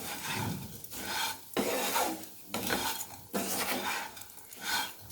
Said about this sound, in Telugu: సేమియా మంచిగా ఫ్రై అయ్యేంత వరకు ఆయిల్లో ఇలా ఫ్రై చేస్తూ ఉందాం ఒక 2 మినిట్స్.